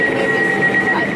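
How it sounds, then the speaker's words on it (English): Elizabeth Line Class 345 train pulling away, heard from inside the carriage as a loud steady rumble with a thin sustained whine over it. "Right, we're moving."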